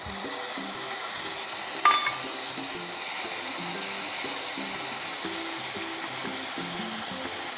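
Tomato and green chilli paste sizzles steadily in a hot frying pan for a kofta curry, a constant close hiss with one brief clink of a utensil and soft background music underneath.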